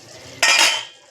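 A metal lid drops onto a cooking pot of simmering Savji-style mutton paya rassa, giving one sharp, close clank and a brief metallic ring that fades out.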